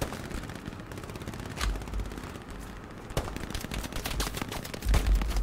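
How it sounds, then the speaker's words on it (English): Gunfire in the World War II shooter Hell Let Loose: rapid machine-gun bursts and scattered rifle shots crackle continuously, with a louder, heavier blast near the end. "there is fire coming from this direction"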